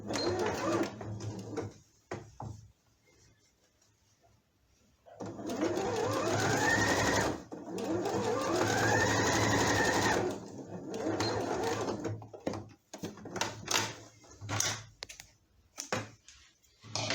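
A sewing machine stitches fabric for a baby's elephant-shaped pillow, running in two long steady bursts of close, loud motor whirring with short pauses and handling clicks between them.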